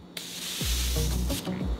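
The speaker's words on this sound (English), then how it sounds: "This is their mattifying continuous setting mist. Oh Lord, tongue tied. And I'm going to spray it all over" A Morphe mattifying continuous setting mist sprays over a face in a long, steady hissing burst, close and soft, with low thumps of handling around it.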